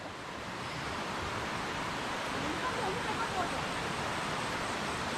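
Continuous broad roar of falling water at the Chaloem Phra Kiat Rama 9 waterfall in Betong, steady and enveloping, heard alone without voices.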